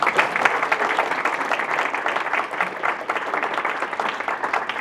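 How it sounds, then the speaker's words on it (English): An audience at a campus campaign kickoff event gives a sustained round of applause after a performance, dense and fairly loud with many hands clapping unevenly throughout. "Again, a round of applause."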